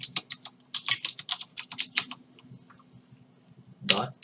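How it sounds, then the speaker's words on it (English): Rapid keystrokes on a computer keyboard while entering text into a database table, a quick run of crisp clicks that thins out and pauses before one louder burst of keys at the end. "So I'm gonna go ahead and type in under"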